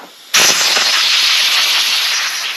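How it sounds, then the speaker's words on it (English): Loud, close burst of compressed air blowing dirt off the carburetor of a Troy Bilt 2700 PSI power washer, starting abruptly and hissing steadily without a break. "I want to take a little bit of air, and we want to blow the carburetor off and wipe it off"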